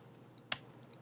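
A single sharp keystroke on a computer keyboard, typed into an RStudio console, standing alone and close against quiet room tone.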